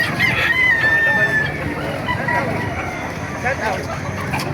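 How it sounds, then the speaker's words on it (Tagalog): Many chickens and roosters crow and cluck together at the Baliuag pet market, a dense, continuous chorus of overlapping calls with someone talking over them. "napakaraming manok na dito sa Baliwag"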